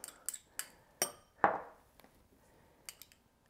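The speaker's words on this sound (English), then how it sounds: "I'm gonna take some ketchup and chili sauce, mix it together" Ketchup and chili sauce stirred together in a bowl, a string of light spoon clinks and taps against the dish, close and quiet, with short pauses between strokes.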